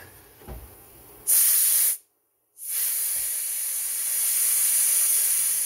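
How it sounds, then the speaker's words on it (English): Compressed air hisses loudly through the oiler passageway of a vintage Stihl 009-012 chainsaw in two bursts, a short sharp blast, a brief silence, then a longer steady hiss, close up. "But we should be able to blow air through there."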